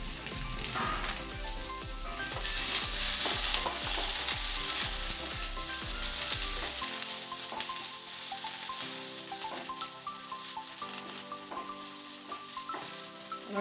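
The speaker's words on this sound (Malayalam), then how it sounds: "സവാള ഇഞ്ചിയും പച്ചമുളകൊക്കെ ഒന്ന് മൂത്ത് വരട്ടെ." Sliced onion, ginger, green chili and curry leaves sautéing in a pan for an aloo matar dish, giving a continuous close sizzle with rhythmic stirring scrapes in the first half, then steadier frying.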